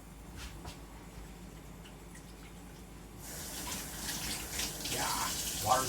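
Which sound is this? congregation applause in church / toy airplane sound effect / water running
water running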